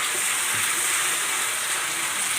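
Vegetables frying in a pan for dum rice, a loud, dense, steady sizzle that fills the whole short stretch, close and uninterrupted, with no voices.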